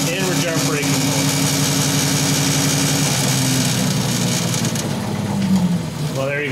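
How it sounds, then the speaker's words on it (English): Electric bike hub motor running in regenerative braking mode on a test rig, a steady droning hum with a sustained tonal whine that holds level throughout, with some tonal shifting near the end. "I'm going to put the system into regenerative braking mode"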